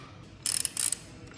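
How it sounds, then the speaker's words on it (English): A number 6 Allen tool tightening bolts on a Husqvarna FE motorcycle rally kit: a short run of quick, close metallic clicks and ratcheting ticks in two bursts, no talk. "Now we need to tighten these bolts, so you take the Allen tool number 6"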